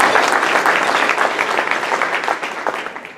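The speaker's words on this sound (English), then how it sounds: "Give them a round of applause." A crowd at a Columbia Rotary club meeting applauds the USC Lady Gamecocks championship team, with dense, steady clapping that holds at a loud level for a few seconds and then starts to thin.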